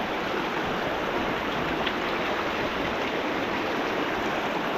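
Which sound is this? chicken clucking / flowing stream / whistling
flowing stream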